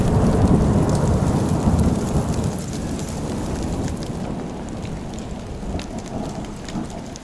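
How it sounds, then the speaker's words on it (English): Heavy rain pours steadily at a remote gorge campsite in Tasmania, with deep rumbles of thunder rolling through the downpour, loud and close throughout with no voices. "Heavy rain and thunder rolled into the darkness."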